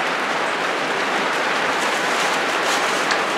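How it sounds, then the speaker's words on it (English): Heavy rain pelts down outside a studio, a dense steady hiss of drops that runs evenly throughout at moderate loudness with no talk over it. "I don't know if you can hear that rain outside, but this is pelting down outside."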